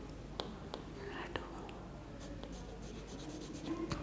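A pencil scratches and rubs across paper while coloring a strawberry drawing in red, soft continuous scribbling with a few sharper strokes, close and quiet against a faint background hum.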